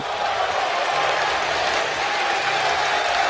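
Crowd at an esports arena during a CS:GO semifinal between Cloud9 and SK Gaming at ELEAGUE Boston 2018 makes a steady wash of applause and cheering, broad and continuous throughout.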